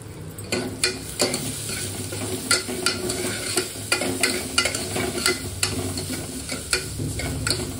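Ginger garlic paste fries in a pan for chicken paya, a continuous sizzle broken by repeated sharp scrapes and clacks of a spoon stirring against the pan.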